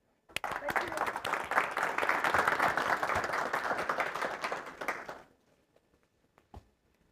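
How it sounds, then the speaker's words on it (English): An audience at a talk on learning claps warmly to welcome a speaker: applause swells quickly, holds steady for about five seconds, then dies away into a few scattered taps and near silence. "inviting you to give a warm applause to welcome her."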